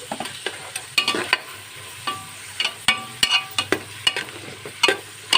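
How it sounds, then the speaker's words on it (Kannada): Chopped onions frying in a pan with a pinch of salt while being stirred, giving a steady close sizzle broken by repeated sharp scraping strokes of a spoon against the pan. "ಬೇಗ ಈ ಈರುಳ್ಳಿ ಎಲ್ಲ ಫ್ರೈ ಆಗ್ತದೆ"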